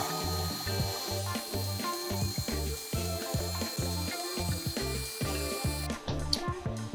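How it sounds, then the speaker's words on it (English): A CNC router cuts parts for a custom Infiniti G37 front end, giving a steady run of rhythmic mechanical chattering and clicking pulses at close range, with no one talking. "Now I'm gonna just turn on the router."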